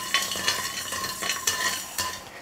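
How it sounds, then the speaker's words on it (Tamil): Sugar syrup cooking over a full flame while a ladle stirs it continuously, with rhythmic metallic scrapes against the pan about every half second over a soft bubbling sizzle. "எப்போவுமே பாகு செய்ய ஆரம்பிக்கிறோம் அப்படின்னா கைவிடாமல் கரண்டி வச்சு கலந்து கொடுத்துக்கிட்டே இருக்கணும்"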